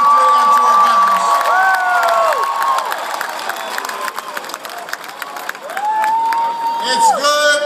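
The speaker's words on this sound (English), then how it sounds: "A huge round of applause" A large campaign-rally crowd at Norfolk State cheers, whoops and applauds loudly and steadily, with children's shouts, whistles and scattered voices mixed through the roar.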